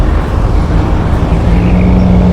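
Heavy ten-wheel dump trucks work a wide soil dumping site at a construction area, giving a loud, steady diesel engine rumble that holds close and constant with a low droning tone and no voices.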